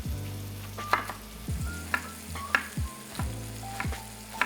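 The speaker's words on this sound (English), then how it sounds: "once the boiling sound has turned into sizzling sound and the mushrooms are properly browned" Steady close sizzling of mushrooms browning in a frying pan after their moisture has boiled off, with scattered crackles and a few scraping stirs; no voices.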